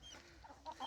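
Chickens give a few soft, scattered clucks, faint and somewhat distant, over a low background hum.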